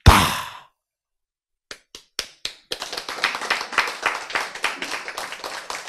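A single sharp sound is followed by silence. Then a few isolated hand claps come, and close, steady clapping follows from a few people in a lecture hall during a health talk.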